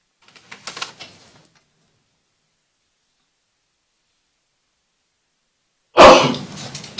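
Sudden loud burst of a sneeze or cough in a courtroom, coming after a few faint soft sounds and a long stretch of near silence.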